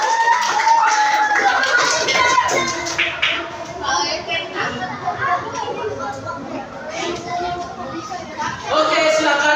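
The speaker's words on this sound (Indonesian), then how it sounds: "Silakan beri aplaus untuk kelompok 4." Classroom applause for a student group in a floor gymnastics lesson, a lively patter of clapping hands mixed with chatter and children's voices throughout, swelling again at the end.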